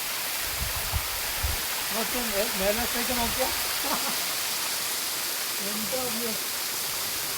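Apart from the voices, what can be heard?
rushing water of a waterfall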